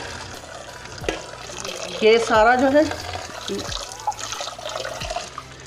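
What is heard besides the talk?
cold tap water running over cooking pot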